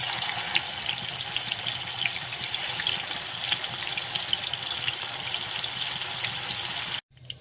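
Paneer frying in hot oil gives a steady, close sizzle and crackle that runs almost unbroken for about seven seconds, then cuts off abruptly.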